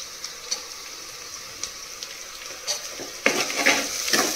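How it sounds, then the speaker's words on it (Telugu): Garlic paste dropped into a pan of fried greens for a bottle gourd curry, quiet sizzle with occasional light clicks, then a sudden louder burst of frying and crackling near the end. "ఇప్పుడు ఇందులోకి వెల్లుల్లి ముద్ద వేసుకుందాము"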